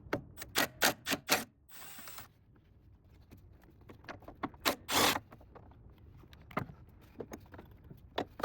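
A ratchet works on a 13 mm screw on a second-generation Nissan Rogue near the transmission mount, a series of sharp clicking bursts and metallic ticks close by, with quieter gaps and a brief whirring scrape between them.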